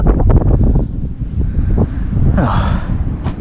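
Strong wind gusting across an open hilltop on Dziewicza Góra, a steady roaring buffet on the microphone with a louder, brighter rush in the last second.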